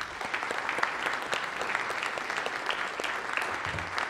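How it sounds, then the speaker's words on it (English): Audience applause after a report at an ARIN fee structure meeting, a steady wash of many hands clapping throughout, moderately loud and without any speech over it. "I'd like a round of applause for these people."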